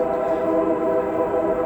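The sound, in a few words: train passing by outside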